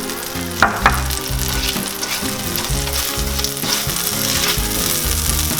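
Garlic and ginger paste fry in melted butter in a pan, hissing loudly and steadily, with a couple of sharp clicks of a spoon or pan near the start and a constant crackle throughout.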